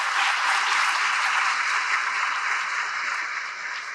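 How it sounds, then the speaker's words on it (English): Audience applause at an achievers' felicitation ceremony, a broad steady wash of many hands clapping, loud and sustained, easing slightly toward the end. "they deserve a good round of applause from this audience."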